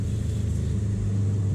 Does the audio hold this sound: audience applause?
no